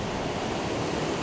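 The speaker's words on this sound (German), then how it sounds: "einfach das Rauschen der Wellen und der Blick auf das endlose, weite Meer." Ocean waves on the Namibian coast along a quiet bay, a steady broadband roar of surf with some wind, heard alone with no talking.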